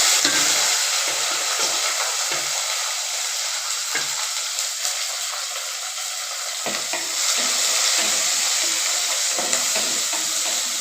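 Small chopped onions with curry leaves sautéing in a hot pan, a steady close sizzle and hiss punctuated by scraping stirs at irregular intervals, with no voices.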